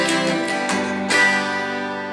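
A guitar plays the short tag at the end of a line from a song, a few plucked notes and a ringing chord that sustains and fades, clear and close with no talking.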